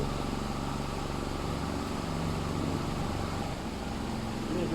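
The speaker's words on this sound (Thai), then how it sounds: "นี่คือต่ำสุดนะครับ พัดลมตัวนี้มันแรงมากนะครับ" A powerful electric fan with a vibrating, hard-starting motor runs at its lowest speed, giving a steady broadband whoosh and hum that stays constant and close, with no speech.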